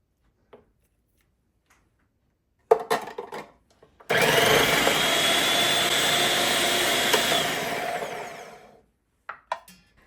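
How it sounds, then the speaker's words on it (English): A Cuisinart 7-cup continuous feed food processor runs for about four and a half seconds, a steady motor whir as it slices, preceded by clattering thumps of food dropping in and followed by a few light knocks. "the food processor had no issue slicing through it"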